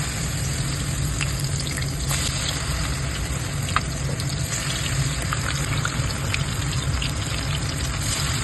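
Lote fish chops fry in hot oil with a loud, dense, continuous sizzle and occasional pops, steady throughout and heard alone.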